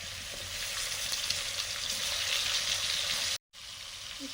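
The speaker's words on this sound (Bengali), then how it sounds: "এবার কুমড়োগুলো ভেজে নিচ্ছি।" Pieces of sweet pumpkin frying in a pan, a steady soft sizzle and crackle running throughout, close up and alone, broken by a brief moment of silence near the end.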